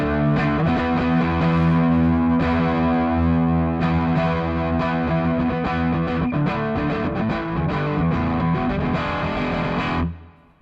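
Thick, saturated electric guitar distortion through an amp simulator with a 2x12 cabinet plays continuously with sustained chords and heavy crunch, loud and upfront, then cuts off abruptly near the end.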